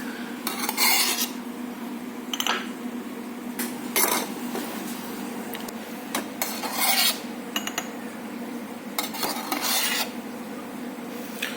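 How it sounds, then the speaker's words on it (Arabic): A metal spoon scrapes and taps against a cup and jug while scooping whipped Nescafé foam in a café, with repeated short clinks and scraping strokes at close range and no talk. "هنقوم ساحبين كده بالمعلقه بتاعتنا الفوم اللي جوه اللي احنا عملناه، وهنقوم منزلينه كده"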